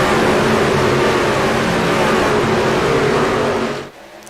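Broadway race trucks roar together at a green-flag start, a loud, dense, sustained engine blare that holds steady, then drops off sharply near the end as the pack moves away.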